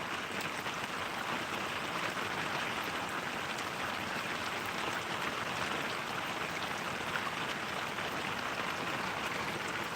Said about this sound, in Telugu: ఈరోజు అయితే వర్షం వస్తూనే ఉంది